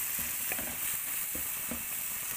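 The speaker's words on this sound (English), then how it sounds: "Now I put in the mixture of ginger and garlic paste there and fry on till the smell, the raw smell of the ginger and garlic goes off." Ginger and garlic paste fries with jackfruit in a hot pan, a dense steady sizzle with soft intermittent stirring taps, close and unbroken by speech.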